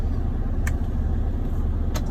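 A truck's engine idles in the cab with a steady low rumble, and two brief clicks sound over it.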